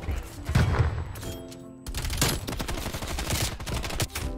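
Rapid bursts of LC10 submachine gun fire in Black Ops Cold War, loud and close with sharp repeated cracks, broken by a brief pause, alongside game sound effects.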